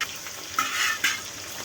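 Turnip (gogji) frying in hot oil in a kadai on a mud stove, a bright close sizzle with two sharp stirring clinks of a spoon against the pan.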